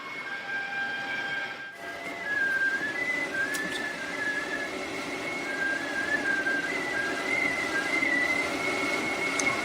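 Computer vent airflow hacked into a whistling wind instrument gives a steady, airy whistle with wavering pitch slides over a constant rushing hiss, starting after a short quieter opening and sustained to the end.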